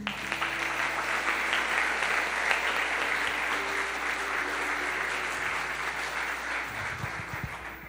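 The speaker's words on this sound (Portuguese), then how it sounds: "Dê um forte aplauso ao Senhor." A church congregation applauds steadily during a worship service, a dense, even wash of clapping at moderate distance that holds for several seconds and thins out near the end.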